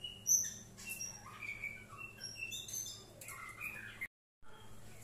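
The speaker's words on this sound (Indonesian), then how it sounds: "di depan saya kebetulan ada murai betinanya" Several bright, sharp calls and short chirps from a female oriental magpie-robin ring out near and clear over a quiet background, spaced irregularly.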